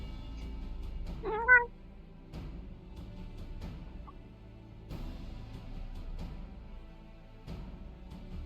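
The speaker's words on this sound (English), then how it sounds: "Come on, Earl, say meow." A pet cat named Earl gives a single short meow near the start, rising and falling, over a steady background hum and faint game music, followed by quieter ambient sound.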